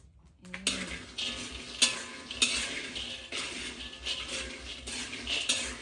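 Wild almond (krabok) seeds dry-roasting in a pan, a steady rustling scrape with repeated clinks and knocks of the utensil against the pan, close and fairly loud, no voices.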